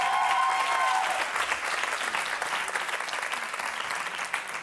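A television studio audience on a Greek talk show breaks into sustained applause, a dense, even clapping that starts with a brief whistle and holds steady before tapering slightly.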